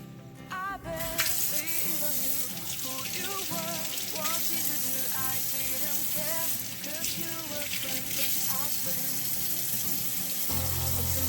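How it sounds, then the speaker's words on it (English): A kitchen tap runs steadily into a sink as two green peppers are rinsed, a close, loud, continuous hiss and splash with shifting gurgles as the water strikes the produce. "you're going to first start off by rinsing your green peppers"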